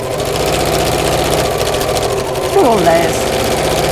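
A sewing machine stitches straight across a messenger bag seam close to the edge, running at a loud, steady buzz, with a voice speaking over it.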